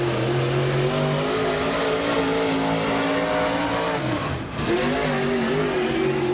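A race car accelerates hard on a qualifying lap, its loud, steady engine roar holding a high pitch that dips briefly near the end before climbing again.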